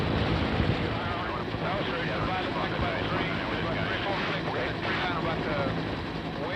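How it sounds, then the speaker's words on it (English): Dense, continuous roar of military helicopter rotors and engine during the Vietnam War, loud and unbroken throughout, with a faint voice buried in the noise. "where the noise of the rotors drowns almost everything else out"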